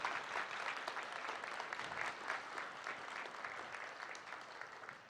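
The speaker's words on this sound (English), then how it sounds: "help me with a round of applause for all the wonderful teachers who support all these students" Audience at a high school graduation ceremony breaks into sustained applause, many hands clapping steadily at a moderate distance, holding fairly even before easing slightly toward the end.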